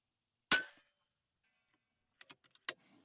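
A sharp single report from a .22 caliber airgun fired at a grizzly bear target, loud and close, followed after a pause by several fainter quick metallic clicks and knocks.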